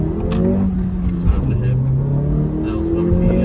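A 2023 Acura Integra with a manual transmission accelerates hard, its engine revving high and droning steadily up through a gear, heard from inside the cabin, loud and close, with a brief shift dip midway.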